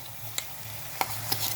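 Mashed tomato frying in a pan for a cluster beans curry, a low steady sizzle punctuated by three sharp scraping clacks of a spoon stirring against the metal, close and fairly quiet with no talking.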